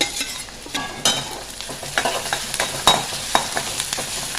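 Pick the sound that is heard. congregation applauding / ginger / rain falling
ginger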